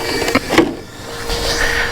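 A Vaterra 1/10 Ford Fiesta RallyCross 4x4 brushless RC car motor spinning up with a rising whine, a couple of short bursts and then a steady high-pitched hum.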